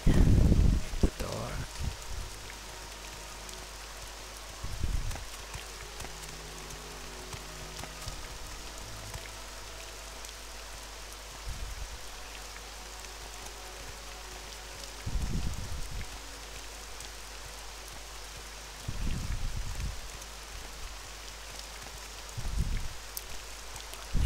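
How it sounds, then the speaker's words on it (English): Steady rain falls in The Elder Scrolls III: Morrowind, a soft continuous hiss with occasional louder thumps and rustles breaking through. "Raining."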